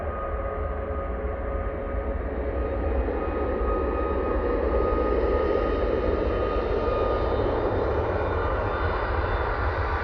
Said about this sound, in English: Ryan Meyer, 737, MAX 8, going off to Madrid.